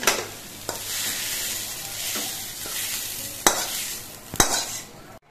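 Onions fry in sizzling oil in a wok while a spatula scrapes and stirs, with a few sharp metallic knocks against the wok near the end.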